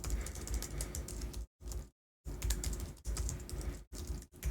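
Typing on a computer keyboard, a dense run of quick clicking keystrokes, close and clear, broken by a couple of brief silent gaps.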